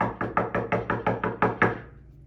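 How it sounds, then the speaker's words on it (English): Knocking on a wooden door, a steady series of about eight distinct raps in quick succession, fairly close and clear, with no voices, fading out at the end. "there was a knock on Jonathan's door"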